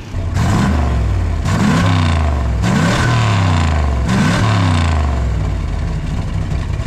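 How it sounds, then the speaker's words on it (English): A 1965 Plymouth Fury wagon engine fitted with Sniper 2 EFI is revved repeatedly, four loud rising blips with an idle rumble between them, close up and without talk. "That is a healthy engine."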